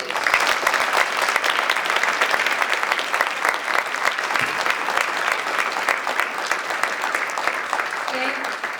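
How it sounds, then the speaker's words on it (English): Audience applause after a 2001 LA SIGGRAPH digital cinematography talk: dense, steady clapping from a large crowd, loud and close, sustained for the whole stretch without letting up. "Round of applause, please."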